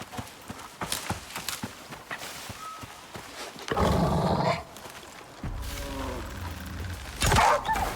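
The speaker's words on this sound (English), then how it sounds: "Thought I heard another wolf." A wolf in the survival game ICARUS lets out deep growling roars in two loud bursts amid footsteps and thumping movement, fairly close, with quieter game noises between them.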